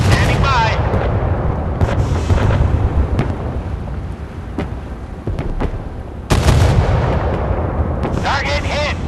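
Naval guns of the battleship USS California fire in the Force of Warships video game, with heavy booming blasts and rolling rumble that carry through, one big report near the start and another later, loud and dense.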